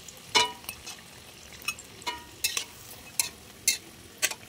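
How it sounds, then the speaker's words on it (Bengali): Cauliflower pakoras deep-fry in hot oil with a quiet steady sizzle and scattered sharp crackles and pops, heard close and alone. "তো ভাজাটা হোক, সবগুলো ভেজে নিই"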